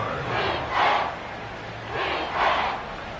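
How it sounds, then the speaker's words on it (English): Football stadium crowd at a Cowboys versus Texans game swelling in two waves of roaring noise on third and long, rising and easing twice over a low steady background. "This crowd turning up the decibel level."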